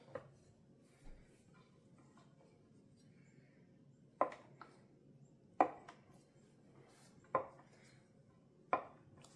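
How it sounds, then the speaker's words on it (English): A knife cuts a rolled log of homemade cinnamon roll dough into 12 pieces, giving five distinct, moderately loud thuds of the blade reaching the board at a steady pace, with quiet room hum between them. "And now this makes 12 cinnamon rolls, so I'm gonna cut it into 12."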